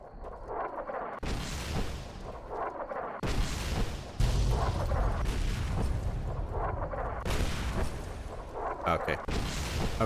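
An artillery bombardment in Fallout New Vegas, with heavy booming blasts arriving one after another in sharp bursts over a rumbling, loud backdrop, and a voice talking through it.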